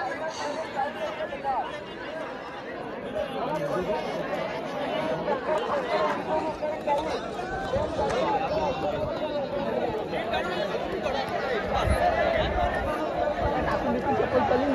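A large crowd chatters and murmurs throughout at a bullock cart race in Bardi, a steady dense babble of many voices at moderate distance with no single voice standing out.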